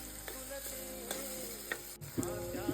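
Tomatoes, salt, turmeric and ghati masala stirred and sizzling in a pan while cooking a dal and potato curry, with steady frying hiss and a few scraping stir strokes, close and alone.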